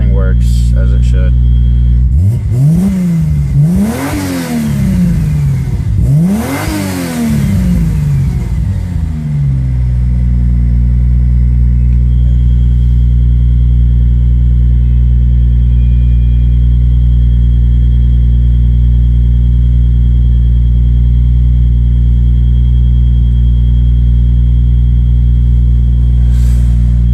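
A 1999 Lexus GS300 with a single turbo engine revs twice, rising and falling loudly, then settles into a steady, close, droning idle while warming up.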